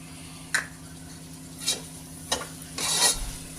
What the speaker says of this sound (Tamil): நல்லா வதக்கிடணும். அது கூட 1 கப் தயிர்.